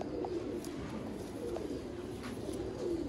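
Soft, repeated cooing from Sialkoti pigeons kept in a loft, low and rolling against a constant background hum, with a few faint higher chirps.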